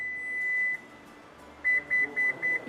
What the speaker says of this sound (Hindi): तो बेसिकली ये 4 बीप्स हैं ये डिनोट करती हैं कि इसकी नई हाइट सेट हो गई है।